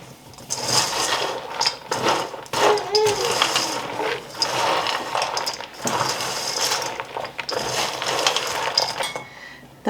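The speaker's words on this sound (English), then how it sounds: "we're just going to stir the egg whites all into the nuts and raisins until everything is coated" Egg whites being stirred into nuts and raisins in a bowl for roasted spiced nuts: a busy, close clatter of rattling, clinking nuts and scraping utensil, continuous with uneven bursts, no talking.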